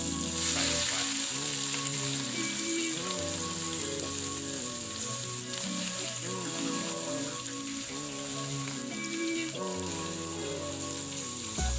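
Undulated surf clams stir-fried with garlic and basil in a hot pan, giving a continuous crackling sizzle that stays even throughout, with background music underneath.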